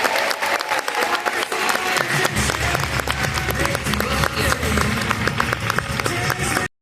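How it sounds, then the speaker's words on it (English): Audience at a seminar breaks into loud, sustained applause, dense clapping filling the room for several seconds with a rumbling undertone before cutting off abruptly. "Would you help me give Miss Kimberly one more big round of applause for sharing her magic today?"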